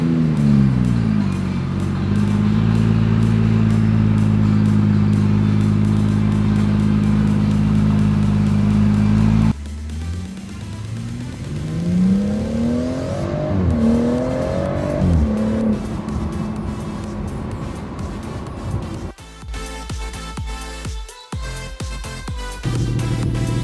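A BMW 440i with a newly fitted exhaust revs loudly and close by, first holding a steady deep drone, then climbing and falling in repeated rev sweeps, then ending in sharp, choppy blips.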